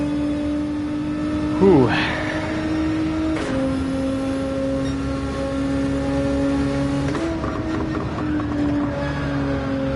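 A racing car engine in Gran Turismo 7 holds a steady high drone under throttle, with a few gear-change steps in pitch, while a voice talks briefly over the engine.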